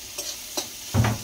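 Chopped onion frying in a pan for a home-made ghugni, with a few short stirring scrapes and then a denser burst of sizzle near the end, close and fairly quiet.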